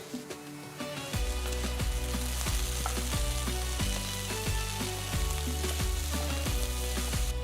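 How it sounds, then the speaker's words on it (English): Potatoes stirred with garam masala, chaat masala and salt in a hot pan give a steady, close sizzle with scraping stirs, running throughout under rhythmic background music. "Mix the masala well, and if you have large potato pieces, make sure you break them into smaller pieces."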